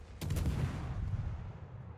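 Warship guns of the Swedish destroyer Västerås fire in World of Warships: a sharp booming salvo erupts, then rolls into a rumbling tail that slowly fades, with no speech.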